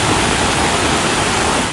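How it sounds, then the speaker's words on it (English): A waterfall pouring outside a water park at Manly, Sydney, during heavy flooding rain, a dense, loud, continuous roar of rushing water that fades slightly at the end. "A waterfall outside the water park at Manly."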